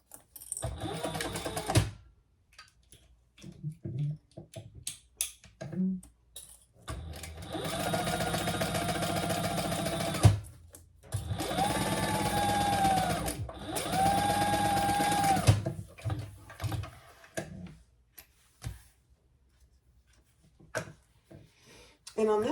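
Sewing machine top-stitching a crossbody bag flap, two steady runs of rapid whirring stitching separated by brief pauses, with quieter handling noise and talk before and after.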